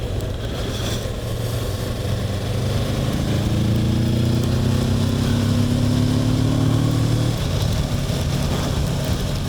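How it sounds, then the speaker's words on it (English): A Kawasaki Versys 650 motorcycle's 650 engine pulls hard while being ridden, a steady loud drone with rising and falling harmonic tones as revs climb through gears, with wind rush throughout and no talking. "there's plenty of bottom grunt in that little 650 engine"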